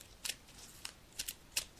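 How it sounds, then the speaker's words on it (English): Energy healing cards being shuffled by a psychic reader on a live show: four or five short, crisp riffling bursts spaced unevenly, fairly quiet and close, with no talking over them. "So I'm just shuffling the cards now, Angela"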